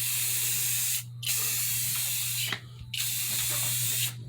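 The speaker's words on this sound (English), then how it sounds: "when you do the paint and do the primer, you want to overlap the edges" A spray can of primer paint hisses in three steady bursts with brief pauses between them, close and loud, while a low steady hum continues underneath.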